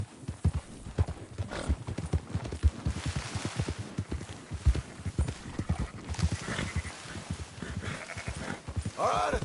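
Horses and a flock of sheep in the video game Red Dead Redemption 2: a steady clip-clop of hooves with scattered bleats and a whinny near the end, under brief game dialogue.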